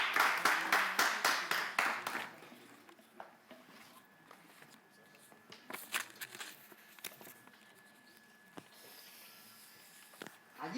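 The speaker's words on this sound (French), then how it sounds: "On applaudit s'il vous plaît." Audience applause at a slam poetry show, a loud burst of dense clapping for the first two seconds that fades into scattered claps and some murmuring.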